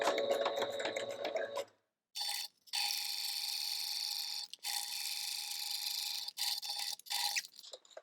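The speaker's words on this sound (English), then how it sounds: "I'm going to start and then I'm going to do a backup stitch so that it's really nice and sealed." A sewing machine runs a backup stitch along a pouch seam, a loud, close, steady mechanical whir that stops and starts several times with brief pauses.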